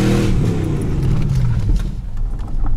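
A Mercedes Gran Turismo car engine revs loud and close, its deep roar sliding downward in pitch before rising again near the end, with no voices.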